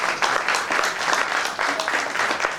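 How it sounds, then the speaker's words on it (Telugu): An audience at a Sri Sita Rama ceremony in Sri Rama Colony clapping for Lord Sri Rama, a brisk, fairly loud burst of crowd applause with a faint voice underneath. "శ్రీరామచంద్ర భగవానికి ఒకసారి చప్పట్లు కొట్టండి."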